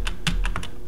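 Keys on a computer keyboard are struck in a quick, irregular burst of about five close, crisp clicks while using the less pager in a terminal.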